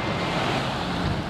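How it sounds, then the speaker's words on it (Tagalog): Strong seaside wind buffets the microphone in a steady, loud broadband roar, with the wash of surf beneath it and no voices. "Ang hangin dito, tol."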